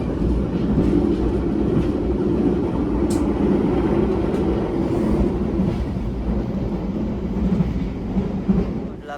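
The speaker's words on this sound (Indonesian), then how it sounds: "kereta api Sangkuriang tiba di stasiun Banjar" The Sangkuriang train rumbles steadily into Banjar station in Indonesia with a continuous low roar and faint clattering of wheels, loud and close, with no voices.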